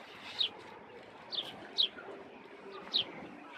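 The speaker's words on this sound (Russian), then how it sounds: "Голубей видали сколько?" Birds in a small city square park in central Novosibirsk, pigeons gathered in numbers, give four brief, fairly distant calls spaced about a second apart over a low, steady outdoor hum.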